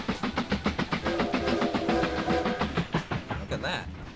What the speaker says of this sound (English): Oh, a train's going underneath of us.